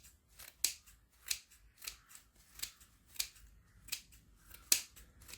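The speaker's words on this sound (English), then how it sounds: "just use a pair of scissors." Scissors snip through material in a steady rhythm, about eight crisp, close cuts spaced evenly with quiet pauses between.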